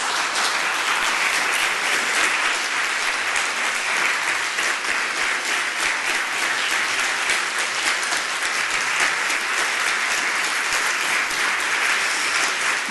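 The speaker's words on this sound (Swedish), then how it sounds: "En stor applåd." An audience at a welcome event and film screening claps steadily in sustained, dense applause that stays even and moderately loud from start to finish, with no one speaking.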